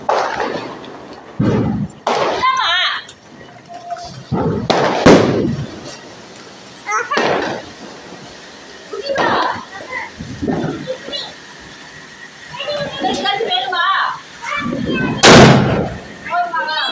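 Diwali firecrackers set off during a night celebration, several sharp bangs and crackling bursts at irregular intervals, some loud and close, mixed with excited voices talking throughout.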